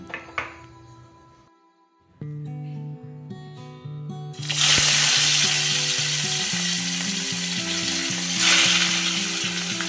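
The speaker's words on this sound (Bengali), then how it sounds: "এখন ইলিশ মাছগুলো ভাজবো" Hilsa fish fry in oil with a loud, continuous hissing sizzle that bursts in about halfway through and holds steady, following a stretch of tonal music.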